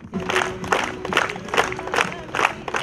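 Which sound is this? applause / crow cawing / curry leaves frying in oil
applause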